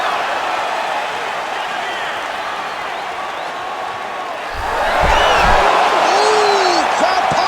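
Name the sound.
crowd cheering in UFC 5 video game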